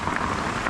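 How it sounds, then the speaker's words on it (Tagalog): Steady rain falls on a construction site, a dense, even hiss of drops spread across the whole short stretch with no voices over it. "kahit umuulan ng ganito"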